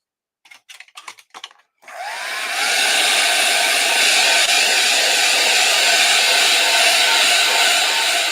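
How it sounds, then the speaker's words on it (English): A few quick handling clicks come first, then a dryer switches on up close while journals are being made, settling into a loud, steady whooshing blow of air that runs without a break. "I'm going to get my dryer out here"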